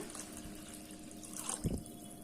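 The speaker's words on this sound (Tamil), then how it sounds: "நான் நாலு கிளாஸ் அளவுக்கு தண்ணி அளந்து வச்சுருக்கேன் இப்போ அதை சேர்த்துட்றேன்" About four glasses of water splash and pour into a cooking pot for a moment, with a brief louder gush near the end.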